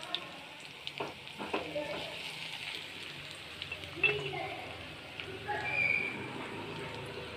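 Onion sautés in a pan for a Chennai masi sambal: a soft, continuous sizzle with occasional stirring scrapes and taps runs under a person talking.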